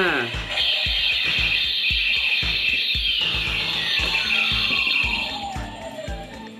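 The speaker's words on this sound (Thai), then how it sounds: "อันนี้เสียงตอนอาสุเก็บข้อมูลของพวกมิสโกจินไรจำได" Character voice effects from a Kamen Rider DX Ark Driver transformation belt toy, triggered by repeated button presses: a loud electronic jingle with bright chimes, a descending sweep and rhythmic beats running continuously, with voice-like sounds mixed in.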